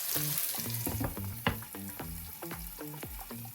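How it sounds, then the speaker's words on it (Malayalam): Brinjal pieces fry in a pan with salt and green chilli for a Kerala curry, giving a continuous close sizzle with regular clinks and scrapes as the pieces are stirred and mixed. "ഇനി ഇതിൽ തന്നെ നമുക്ക് വഴുതനങ്ങ ഇട്ട് കൊടുക്കാം മിക്സ് ചെയ്ത് കൊടുക്കാം"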